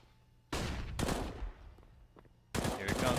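Gunfire in a Counter-Strike match on Mirage between Fnatic and Astralis, two loud bursts of rapid automatic shots with a quieter pause and fainter shots between them.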